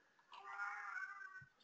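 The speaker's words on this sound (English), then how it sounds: "That's my cat who doesn't agree that there could be weakness." A single house cat lets out one drawn-out indoor meow, fairly faint and close, with no speech over it.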